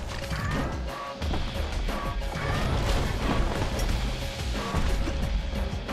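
A loud, dense clanking machine mechanism in the video game Bastion, grinding and crashing continuously with metallic ratcheting and creaks, close and unbroken.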